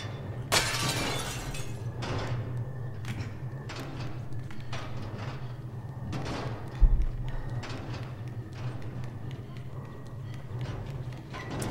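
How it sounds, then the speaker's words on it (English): Objects being smashed in Little Nightmares 2, a series of crashing, shattering breaks spaced across the stretch over a low steady background hum, with one sharp heavier impact partway through. "Oh, man, I'm smashing everything. I'm making all this noise."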